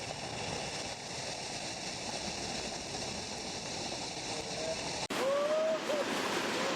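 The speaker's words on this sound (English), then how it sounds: "we even got to go underneath the waterfall and watch it fall over our heads like this" Waterfall pouring down overhead, heard from directly underneath as a loud, steady broadband roar that fills the whole clip, with a brief high-pitched squeal or cry near the end.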